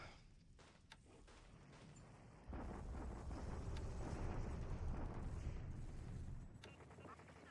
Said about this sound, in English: He's bombarding quite a bit more than he did yesterday